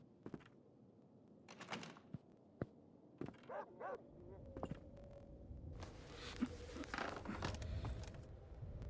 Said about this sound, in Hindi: जो कुत्ते भौंक रहे हैं भाई.